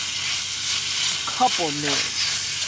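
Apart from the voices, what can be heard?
stirring and frying cheesesteak meat in a pan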